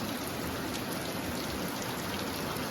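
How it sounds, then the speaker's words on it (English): Heavy rain pours steadily onto a garden, a dense, even patter of drops on surfaces filling the whole stretch without pause. "And suddenly it began to rain like this."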